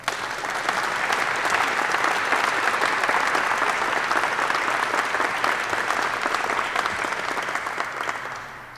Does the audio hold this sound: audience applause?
yes